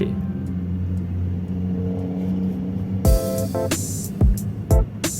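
Large trucks and heavy vehicles pass through a road intersection in Kabin Buri, a continuous low engine rumble with rising whirs, punctuated near the end by several loud, sharp whooshing surges as vehicles go by close.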